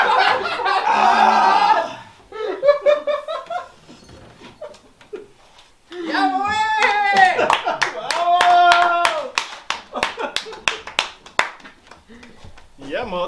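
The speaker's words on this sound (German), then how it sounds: "Ja, Applaus für den Gewinner!" Rapid clapping from a small group at a Puch Maxi moped Christmas show breaks out for the winner over excited speech and laughter, fading briefly before a second, louder round of steady applause.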